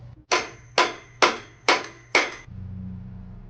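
Five evenly spaced, sharp metallic strikes ring out close by while a flywheel is pulled off a Cummins-Onan Microlite 2800 generator with a puller. A low steady hum follows the last blow.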